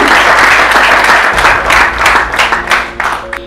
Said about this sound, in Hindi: उसके ऊपर जोरदार तालियां अपने आप से